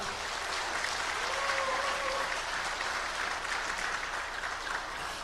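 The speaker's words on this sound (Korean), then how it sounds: "그분들에 대해서 한번 큰 박수 한번 해주시기 바랍니다." An audience at a civic security groups' rally in a hotel hall applauds steadily, a dense sustained clapping at moderate distance lasting several seconds without breaks.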